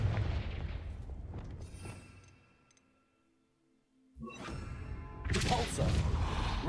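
The Confringo explosion spell in the Hogwarts Legacy video game gives a fiery burst with a heavy boom that fades to near silence before more blasts and combat noise crash back in, loud and close.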